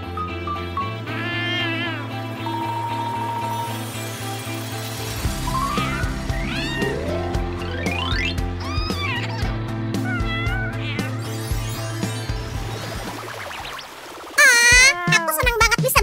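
A small kitten meows repeatedly in varied, rising and falling cries, close and fairly loud, over a low steady hum, with a brief louder burst near the end.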